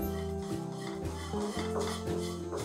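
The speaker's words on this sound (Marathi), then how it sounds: "आता आपण पोहे जे आहेत ते भाजून घेऊयात।" Thick flattened rice (poha) is stirred while dry roasting in a pan over low flame, giving a steady scraping rustle under a loud, continuous low tonal hum.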